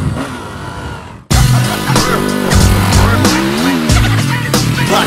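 An enduro motorcycle brakes into a turn, then the engine revs hard and loud as it accelerates out, its pitch climbing and dipping through several rising surges up close.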